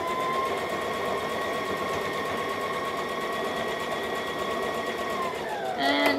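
A Simplicity 1801 sewing machine stitches steadily with a close, continuous whir and an even mechanical pulse, then its pitch drops near the end as it slows for backstitching.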